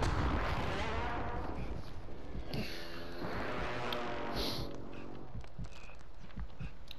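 Airstrike and gunfire in a shooter video game, with heavy booming blasts and sharp rattling shots crashing repeatedly over several seconds, loud and chaotic, with a faint voice underneath.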